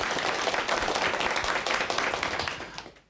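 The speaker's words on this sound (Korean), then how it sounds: "큰 박수와 함께 첫 번째 강의 들어가도록 하겠습니다." Loud, dense applause from a lecture audience welcoming a speaker to a televised talk on parenting and children's character, sustained steadily before fading out at the end.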